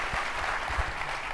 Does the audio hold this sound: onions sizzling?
no